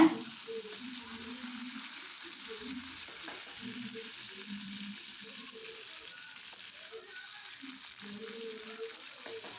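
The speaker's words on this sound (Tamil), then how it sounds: "கருவேப்பிலை ஒரு கொத்து கொத்தமல்லி ஒரு கொத்து ஆட் பண்ணி நம்ம தாளிச்சிக்கலாங்க" Curry leaves and coriander temper in hot oil for ven pongal with a soft, continuous frying hiss, punctuated by faint scraping and stirring clatter throughout.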